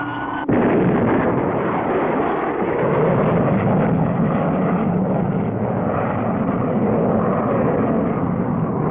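Cartoon rocket blast-off of the Starduster spaceship in a 1962 sci-fi animated show. An abrupt ignition gives way to a continuous loud, rough roaring rush that holds steady and dense throughout with no voices.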